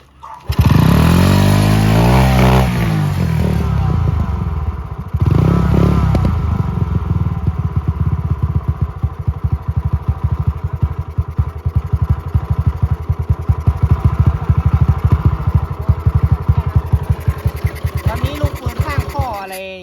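A Honda Wave 125 motorcycle engine starts and then runs loud and close throughout, with a steady, slightly rough idle that persists to the end.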